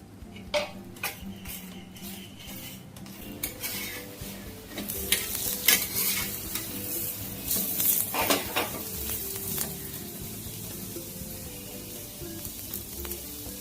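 Sattu parathas frying in white oil in a pan, a steady close sizzle broken by repeated sharp scrapes and clacks of a spatula against metal as the bread is turned and pressed.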